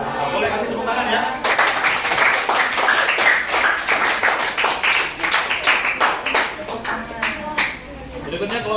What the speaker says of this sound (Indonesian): Boleh kasih tepuk tangan ya.